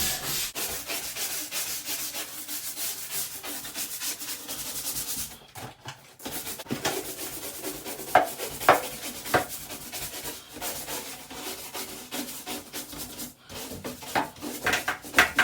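A sponge scrubs tiled tub walls with continuous close, rough rubbing strokes, steady back-and-forth swishes interrupted by a brief pause and a few louder squeaky scrapes, no voices.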